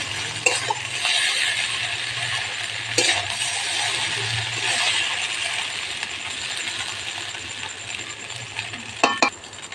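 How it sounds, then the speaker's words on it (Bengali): Vegetables are stirred into chow mein in a pan in a home kitchen: a soft sizzle runs underneath while a metal utensil scrapes and clinks against the pan in scattered sharp taps. "সবজিগুলা চাউমিনের সঙ্গে ভালো করে মিশিয়ে নেব।"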